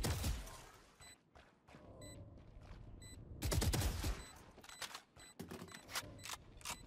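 Guns fire in the tactical shooter video game Valorant, a run of sharp, loud shots and bursts with short gaps between them, mixed with clicking mechanical game sounds.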